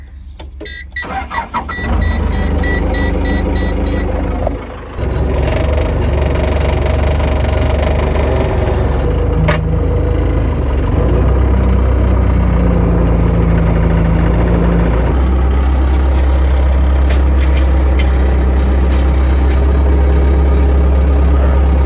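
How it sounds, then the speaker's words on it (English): Skid steer engine running loud and close while dragging a stalled 3020 tractor, a steady heavy rumble that dips briefly and then revs into a strained drone. "Plan B, moving it with a skid steer."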